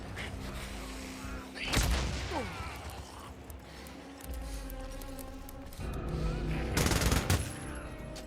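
Gunfire in the open-world zombie game Days Gone as marauders fight: bursts of shots punch through a steady rumbling ambience, one cluster early and a louder rapid volley near the end, with brief talk between.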